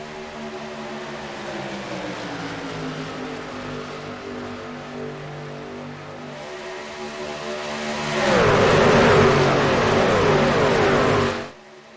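Racing truck engines drone and whir through a truck racing video game, a steady multi-toned hum that swells into a louder roar near the end before cutting off abruptly.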